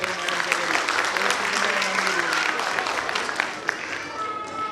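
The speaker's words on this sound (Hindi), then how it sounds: "Please जोरदार तालियां इनके लिए।" Audience applause at a play-way school's annual function rolls on steadily for several seconds, a dense wash of many hands clapping with faint crowd murmur and a few voices mixed in.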